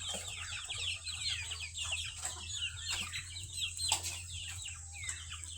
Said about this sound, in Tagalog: Makukulit kong mga sisiw.